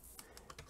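Several quick keystrokes sound on a computer keyboard while numbers are entered into an Excel spreadsheet, a short, soft burst of clicks with no speech.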